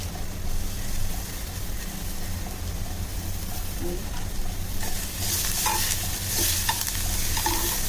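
Onion and coriander frying in a pan for a Malvani drumstick-potato curry, a continuous close sizzle and hiss with repeated stirring scrapes, louder and brighter toward the end, no talk.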